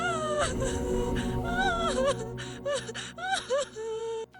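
A little girl sobs and whimpers in broken, shaky gasps, high and close, over a dark sustained musical drone.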